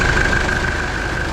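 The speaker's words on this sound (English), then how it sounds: "with the foot on the brake, bringing the revs up to about 11 or 1200 RPM and cycling it through the gears" A Mitsubishi L400 Delica engine runs steadily at raised idle around 1200 RPM, a loud, even, close mechanical drone with a faint whine on top and no talking.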